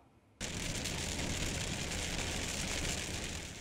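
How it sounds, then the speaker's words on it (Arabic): Rain falls after a long dry spell: a dense, steady hiss of drops that starts abruptly and keeps going evenly, with no voices. "انقطع الانحباس ونزل المطر"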